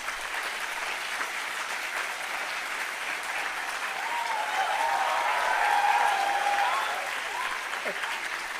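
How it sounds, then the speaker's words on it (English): Steady applause from a seated crowd in a convocation hall, a dense wash of clapping that swells a little louder midway before settling back to an even level. "Parents can now clap to celebrate the success of their wards."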